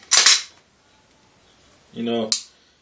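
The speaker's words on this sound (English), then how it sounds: "Sudden gun recoils, and here I am again, shooting again." A Glock pistol fires once near the start, a sharp loud crack with a short tail, followed by quiet and then a brief voiced burst ending in another sharp click.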